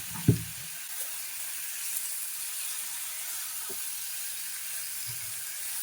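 Finely chopped tomatoes frying in oil in a pan for Telugu palli pachadi. A steady soft sizzle and hiss runs throughout, with a few quiet thuds and stirring knocks.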